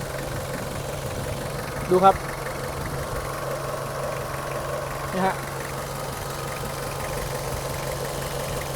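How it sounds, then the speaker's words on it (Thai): An Isuzu D-Max Mighty-X pickup truck's 2-litre engine idles smoothly and steadily nearby, a soft even rumble, while someone briefly speaks over it twice. "เครื่องยนต์เดินเรียบนิ่งเงียบนะฮะ ไม่เขกไม่อาย เสียงเครื่องนิ่มมากนุ่มมากครับ"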